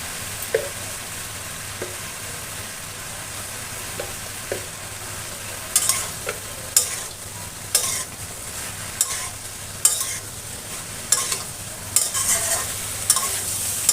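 Spices, turmeric and vegetables sautéing on high flame for a jackfruit and chicken curry, with a steady sizzle beneath repeated sharp spoon scrapes and clinks that quicken as stirring continues.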